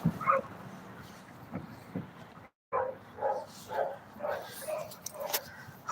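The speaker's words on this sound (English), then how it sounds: "If you guys can hear a dog barking in the background," A poodle barks repeatedly in the background during a night walk, a run of sharp yips and whining barks with brief gaps between them.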